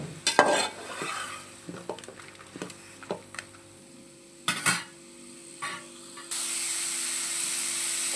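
Tomatoes, onions, coriander seeds and whole spices fry in a pan with repeated scraping stirs and spoon knocks over a low sizzle. A bright, steady hiss swells near the end.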